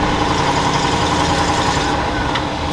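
A 1986 Ford F250 pickup truck with a custom exhaust idles close by, a loud, steady low rumble with constant exhaust drone and no talking.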